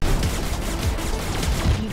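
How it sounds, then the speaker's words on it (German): A grenade blows up in the VR shooter Voronium, a loud, continuous burst of booming explosions and gunfire-like crackle that fills the whole moment at close range. "Noch eine Granate, dann ist er weg."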